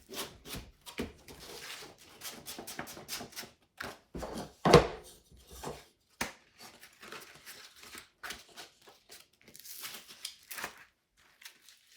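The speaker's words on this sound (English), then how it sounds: "I'm going to get some sanding done on this drywall." Drywall being sanded by hand, irregular bursts of scratchy rubbing strokes with short pauses between them, close and fairly quiet, no talking.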